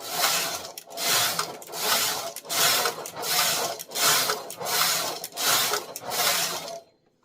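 Knitmaster 700 knitting machine working two-colour Fairisle rows from a punch card, the carriage making loud repeated swishing, rasping passes, about eight even strokes with brief gaps between them, with no voice over it.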